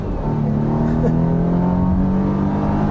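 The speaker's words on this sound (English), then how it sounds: "It's a 2-liter 4-cylinder turbocharged engine." A 2020 Volvo V60 Cross Country with a 2-liter four-cylinder turbocharged engine accelerates on a back road, a steady, loud engine drone with a slowly rising pitch heard from inside the car for about three seconds.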